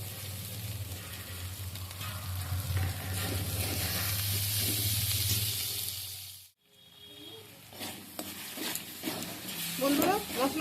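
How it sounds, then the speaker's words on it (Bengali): Spice masala for a chickpea curry sizzles and spits in a pan while being stirred, a loud steady fry hiss that cuts off briefly midway, then returns with scattered scrapes, spatters and clinks. "মশলাটাকে খুব ভালো করে আমি কষে নিচ্ছি"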